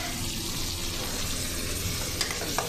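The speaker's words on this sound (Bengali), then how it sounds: "এই যে তারপর টমেটোগুলো এখন দিয়ে দেবো, এই যে দিয়ে দিলাম টমেটোগুলো" Tomatoes added to a hot pan of chili and onion sizzle and fry with a steady, close crackling hiss, with a couple of brief clinks near the end.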